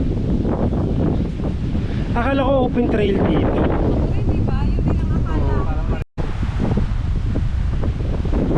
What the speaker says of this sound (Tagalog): Mahangin na, no?